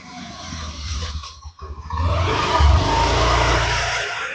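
A motorbike passes along a road at a hidden spot in Idukki, its engine roar building from a steady drone into a loud, close rush that holds to the end.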